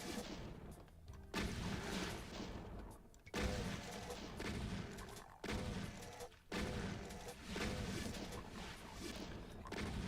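Regular shotgun blasting in the video game Doom, repeated heavy booms in sections separated by brief gaps, loud over game noise with occasional quiet talk.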